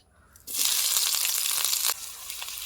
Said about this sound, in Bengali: তেলটা গরম হয়ে গেছে এর মধ্যে দিয়ে দেব তিনটে মিডিয়াম সাইজের কুচিয়ে রাখা পেঁয়াজ